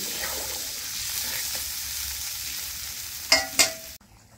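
A pot of curry broth with thankuni leaves simmering on the stove gives a soft, steady bubbling hiss, broken near the end by two sharp metallic clangs before the sound cuts off.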